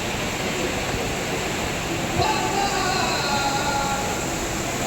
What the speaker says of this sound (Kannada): ನೋಡಿ ನಮ್ಮ ನಂದಿನಿ ನದಿ ಎಷ್ಟು ಅದ್ಭುತವಾಗಿ ಹರಿತಿದ್ದಾರೆ